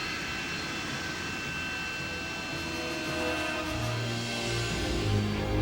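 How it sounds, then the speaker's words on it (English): A British Harrier jump jet's engine roars steadily at a distance, a broad, continuous rushing drone that swells slightly louder toward the end. "Vertical takeoff and landing made the British Harrier a perfect choice to fly close air support missions for ground troops."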